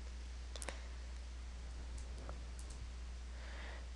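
A computer keyboard clicks a few times as a formula is typed into a spreadsheet, scattered soft keystrokes over a steady quiet hum.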